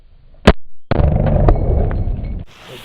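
A Hi-Point 9mm pistol fires one sharp, loud, close crack. A brief pause follows, then a long stretch of dense, rumbling noise that cuts off abruptly.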